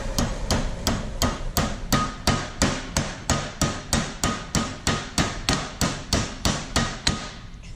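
Hammer driving pins into a Ford Barra mini spool housing, about twenty sharp metallic blows struck in a fast steady rhythm, close and loud, with no talk.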